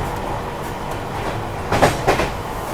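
Another train passes the Tejas Rajdhani Express on the New Delhi to Mumbai line, heard from inside a 3AC coach: a steady rolling rumble with two sharp, close whooshing rushes near the end.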